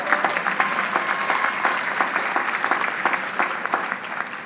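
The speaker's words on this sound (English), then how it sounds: "So give yourselves a big round of applause." A college commencement crowd applauds the graduating class, a sustained, even wash of many hands clapping at a moderate distance, with no talk over it.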